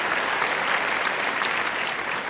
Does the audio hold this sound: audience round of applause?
yes